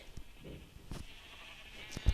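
Sheep in the video game Minecraft give faint, short bleats, a few scattered calls close together, with low game background.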